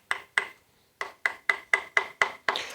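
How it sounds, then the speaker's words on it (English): A Harbor Freight straight chisel cuts into wood in eight sharp, close strikes, two quick ones, a pause, then six in an even rhythm, each a crisp knock with a short scraping tail. "This is a straight chisel."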